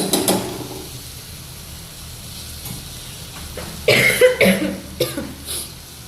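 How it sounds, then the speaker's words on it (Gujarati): A short cough at the start, then quiet room tone, followed by a burst of clattering and scraping sounds near the end. "એ ઉધરસ આવે"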